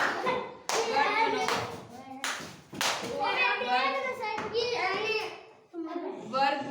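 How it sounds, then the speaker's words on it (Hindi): During a classroom shapes activity, a group of children claps in several loud bursts of rapid applause, with short pauses between them and children's voices mixed in. "चलो संध्या के लिए ताली बजाओ"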